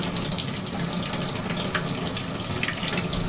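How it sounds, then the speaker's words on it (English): Hot water runs from a tap into a sink in a steady, continuous hiss and splash, loud and close throughout. "Hot water? Yeah, hot water in the sink."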